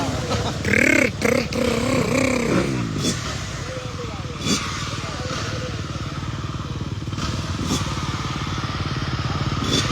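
A two-stroke motocross motorcycle engine revs with rising and falling whines at a live motocross event, then settles into a steady buzzing drone, with people's voices around it.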